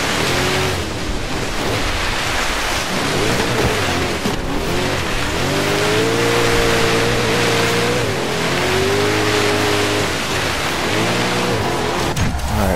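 Bugatti Veyron drifting through snow on a blizzard mountain course in Forza Horizon 3, a steady loud engine drone with rising and falling revs and a constant noisy hiss of tyres, continuous throughout.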